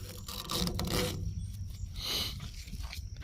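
A ratchet bolts in a tailgate handle on a 2006 Chevy 1500, giving close, rough bursts of clicking and rasping with short pauses between strokes.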